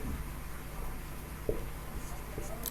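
Soft scratching strokes of chalk or marker on a board as the Hindi word Ganga is written, a few faint taps over low room noise.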